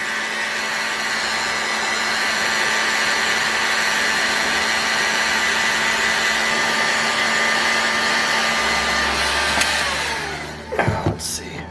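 A 30-plus-year-old heat gun blows steadily, heating a model engine crankcase to free its bearings; a loud, continuous close whoosh that cuts off near the end, followed by brief handling clatter.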